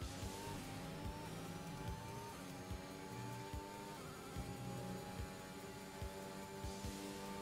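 A Formula 1 car at Spa in F1 2021, engine howling steadily through rapid upshifts with sharp gearchange blips, close and continuous, no talking.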